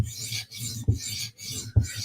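A steel knife blade is stroked across a sharpening stone to remove the burr, three close, rhythmic rasping scrapes with short gaps between them, quiet and without talk.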